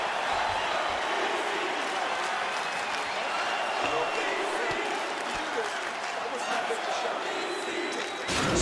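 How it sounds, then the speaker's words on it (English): A large UFC arena crowd cheers and applauds after the first round of a fight, a dense continuous roar of clapping and shouting that holds steady throughout, with a voice talking faintly underneath. "So the crowd voicing its appreciation after that round"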